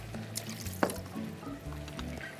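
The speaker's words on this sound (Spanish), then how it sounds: "escurro este agua" Water drained off clams in a kitchen while preparing New England clam chowder: a faint, brief liquid splash and drip with a small squishy pour, quiet and close.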